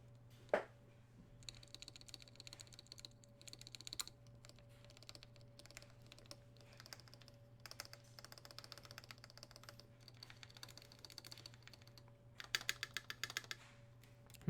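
Keyboard switches, Tealios V2 on an Aegis keyboard, being tested: steady bursts of quick close typing clicks and clacks, with a constant low electrical hum behind them and no speech.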